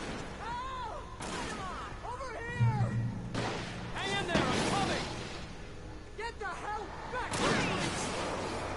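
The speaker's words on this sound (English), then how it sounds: "Those gunshots don't sound very nice, very" Several sharp gunshots ring out at intervals in Alan Wake Remastered, mixed with tense game sounds and echoing effects, with someone talking over them.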